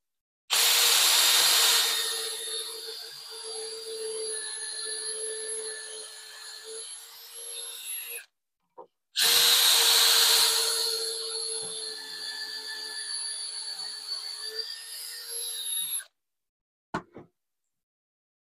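A power drill bores pocket holes into wood clamped in a Kreg pocket hole jig for a jewellery workbench, two loud sustained whirring runs of several seconds each, separated by a short pause, with a brief clack near the end.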